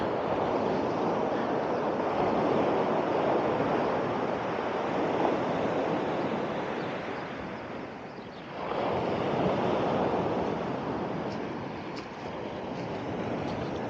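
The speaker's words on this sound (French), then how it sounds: "Je pourrais rester des heures comme ça à écouter la mer." Mediterranean sea waves wash steadily onto the shore at Castell de Ferro, a loud continuous rushing surf with gentle swells and one brief lull, mixed with wind noise and no talking.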